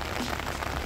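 Steady rain falling outdoors along a village pathway in Korea, a dense, even hiss with no breaks, moderately close and without voices.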